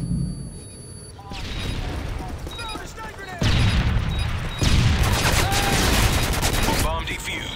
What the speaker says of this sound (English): I'm trying to throw a nade.